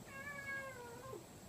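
A cat gives a single drawn-out meow, clear and fairly near, with low background rumble beneath it.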